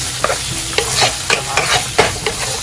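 Olives cook with garlic and anchovies in a pan for pasta puttanesca. A loud spatula clanks and scrapes at irregular intervals over a constant close sizzle, and no one speaks.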